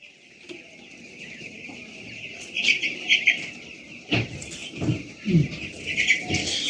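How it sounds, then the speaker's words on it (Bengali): Broiler chickens in a poultry shed, around ten days old, chirp and cluck in a steady, lively chorus, with sharper bursts and some rustling or wing flapping near the end. "মুরগিগুলো কিন্তু খুবই চঞ্চলতা আছে, মুরগি অনেক চঞ্চলতা।"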